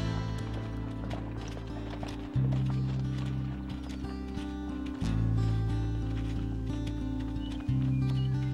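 Wild horses gallop as a stallion chases the band, a rapid clip-clop of hooves layered under sustained low musical tones that shift in steps.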